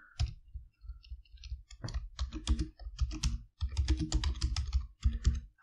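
Fingers type on a computer keyboard in quick irregular bursts of crisp clicks and taps, with short pauses between runs of keystrokes, close and clear.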